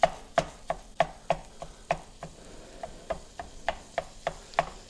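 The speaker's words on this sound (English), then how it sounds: "I love this stir and chop. It gets it broke up really well." A plastic stir-and-chop tool jabbing and breaking up ground beef in a pot, a steady series of sharp, evenly spaced chops, close and clear with no talking.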